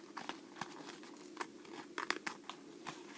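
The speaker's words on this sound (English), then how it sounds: "So you take your scissors, watch me first please, cut out that dark bar" Scissors snip through a strip of paper while cutting out a dark bar for an origami bat, giving soft crinkly cuts and paper rustles in an irregular series, close and fairly quiet.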